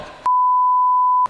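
A clean electronic beep tone holds steady for about a second, loud and isolated, with brief bursts of talk just before and after it.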